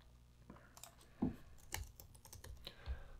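Keys tapped on a computer keyboard during file-folder setup in photo-editing software, a quick irregular run of close clicks with a few louder strikes, no talking over them.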